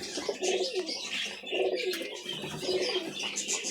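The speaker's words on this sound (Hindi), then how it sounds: "और एक ये कबूतर बैठा है।" A pigeon perched nearby gives soft, repeated throaty coos in a gentle rhythm, fairly faint, with small chirps and light ambient noise between the calls.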